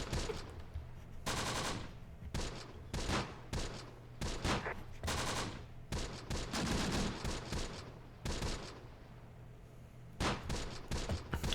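Gunfire in the video game Close Combat, Italian WWII battle: loud, close bursts of machine-gun and rifle fire in repeated volleys with short gaps, continuing steadily throughout.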